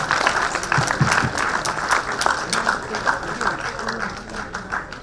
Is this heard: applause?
yes